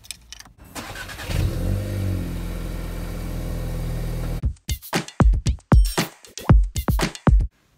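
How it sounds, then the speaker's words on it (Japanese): A car engine runs and pulls away for a few seconds, then cuts out and is followed by a series of sharp, close knocks and clunks. "では安全運転で帰りたいと思います。"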